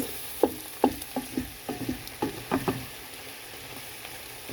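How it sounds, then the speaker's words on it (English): Flour is stirred into sizzling chicken pot pie filling, with a spoon scraping the pot in a series of soft, irregular strokes over a steady close fry hiss, and no talk. "you want to sprinkle your little flour on here. And give it a mix"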